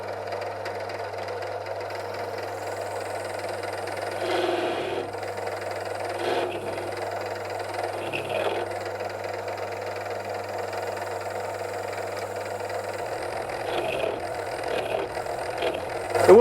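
A cutter machines a nylon washer on a lathe-like setup while a rod presses on the nylon to damp vibration, giving a steady mechanical hum and buzz with a low tonal drone throughout.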